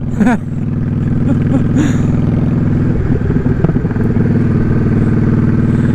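A motorcycle engine runs steadily nearby, a low droning hum with a short rise in revs and some clatter near the middle, fairly loud and continuous throughout.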